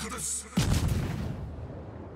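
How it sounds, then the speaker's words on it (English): Torpedo hits exploding on ships in the World of Warships naval game: a steady rumble, then a sudden heavy boom that rolls and decays into a long low roar. "there are even more torpedo hits. There is a double strike"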